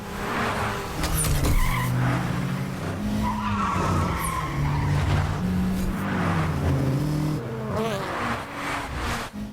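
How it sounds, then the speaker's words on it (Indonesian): Tires skid and car engines roar through a police car chase in a heist film, a continuous loud rush of screeching and revving with dramatic music beneath and no talk. "akhirnya aksi kejar-kejaran pun gak bisa dihindarkan"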